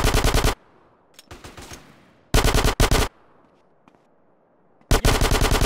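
Automatic gunfire in Grand Theft Auto San Andreas, loud rapid bursts at the start, a double burst in the middle and another at the end, separated by quieter stretches with scattered faint noises.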